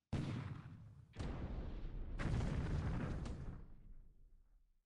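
Deck gun fire and shell explosions in War in the Pacific: Admiral Edition: three heavy blasts in quick succession, each bursting sharply and then rumbling away, with the last one fading out slowly.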